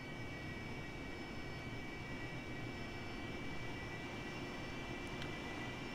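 A steady, faint jet engine drone from an AV-8B Harrier taxiing in the DCS flight simulator, with a constant low rumble and thin high whine running evenly throughout without speech.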